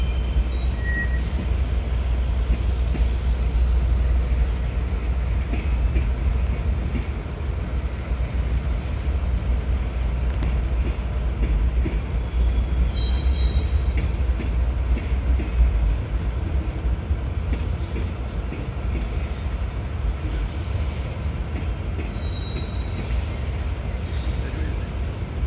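A northbound CSX mixed manifest freight train rolls past, making a steady, loud low rumble with wheel and car rattle throughout and occasional faint squeals, heard without voices.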